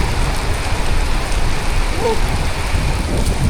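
Heavy rain pours on a misty Kerala hilltop, a thick, loud wash of drops close to the microphone, with a faint brief voice murmur in the background.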